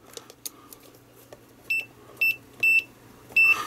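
A Proster VC99 digital multimeter gives four short, clear, high-pitched beeps, evenly spaced in the second half, with quiet room noise before.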